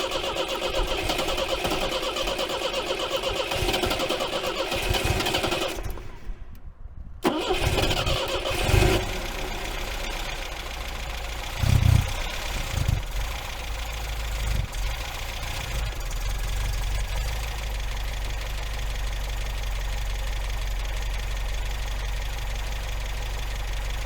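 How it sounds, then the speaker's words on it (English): An MGB car engine with a new distributor cap, rotor, plugs and leads cranks and catches, then runs on at a steady, loud, close idle with a low rumble and slight unevenness. "So let's try and start it and see how it runs."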